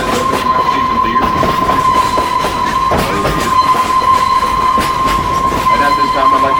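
Branson tourist train rolls along in a loud, steady rumble with rail clatter and a sustained tonal whine, close and continuous, with faint voices underneath.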